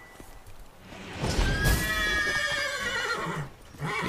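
A panicked horse in the video game The Witcher 3: Blood and Wine lets out one loud, shrill whinny lasting a couple of seconds, with faint hoof and ambient game sounds around it.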